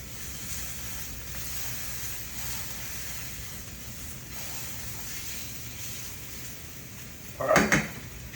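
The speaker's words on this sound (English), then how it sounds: "A quick searing of it, right?" Cooked food sears in a hot pan with a steady, soft sizzle throughout, ending in a brief clatter of cookware.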